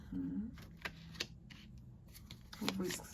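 Quick bursts of cards riffling and snapping, two or three short flurries at close range, with faint background noise between them.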